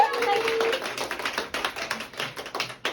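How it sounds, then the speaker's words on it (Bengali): Scattered hand claps, a few at a time and fairly close, follow voices and laughter at a bridal makeup session with models and students. "হাততালি কোথায়?"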